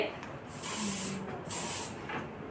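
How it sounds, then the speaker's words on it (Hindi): Hard hair spray hisses from a can in two distinct bursts, each about half a second long, close and fairly quiet, with a fainter third puff at the end. "एकदम स्मूथ हार्ड स्प्रे किया, पैच कुछ भी नहीं दिखना चाहिए।"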